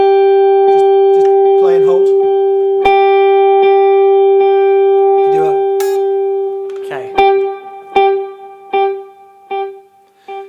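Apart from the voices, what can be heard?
guitar note played through a delay effect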